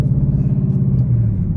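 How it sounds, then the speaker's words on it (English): A Ford Mustang engine rumbles low and steady at close range for a moment, with no talk over it. "Nice little downshift."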